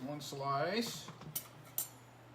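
A serving utensil lifts a slice of burrito casserole from a baking dish, giving two brief, sharp clinks against the dish after a short stretch of voice, in a quiet kitchen.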